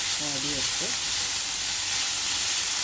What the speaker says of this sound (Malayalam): ചതച്ച് വെച്ചിട്ടുള്ള വെളുത്തുള്ളി ചെറിയുള്ളി ഇഞ്ചി പച്ചമുളക് എല്ലാം ഇട്ട് നന്നായിട്ട് നന്നായിട്ട്